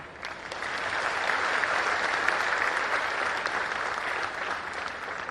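An audience at the Hunar Haat inauguration gives a sustained round of applause, a loud, dense clapping that swells and holds steady for several seconds before easing slightly.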